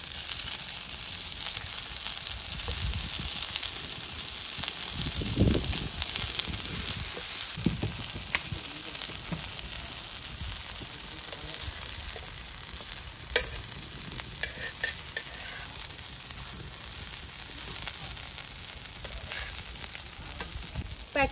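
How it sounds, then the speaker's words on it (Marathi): Ragda patties fry in oil on a hot tava griddle, giving a steady close sizzle with occasional scraping and soft knocks from a spatula, with no talking. "पॅटीस फ्राय करण्यासाठी तवा ठेवून घेऊ"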